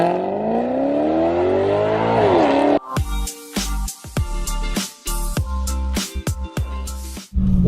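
A Maserati GranTurismo MC with a straight-piped exhaust revving hard, first one long rising and falling engine howl, then a run of sharp, loud blips and pops in quick succession, close by.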